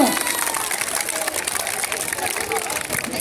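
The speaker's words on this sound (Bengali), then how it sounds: "সবাই জোরে একটা হাততালি দাও তো এদের জন্য" A crowd of students at a Bengali school event applauds loudly and continuously nearby, with chatter mixed into the clapping.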